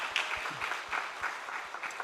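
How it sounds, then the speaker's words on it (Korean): Congregation applauding during a Korean Sunday worship service at church, a sustained wash of clapping heard at moderate distance, fairly soft, with a few low thumps underneath. "자, 다시 한번 우리 큰 박수 주시면 감사하겠습니다."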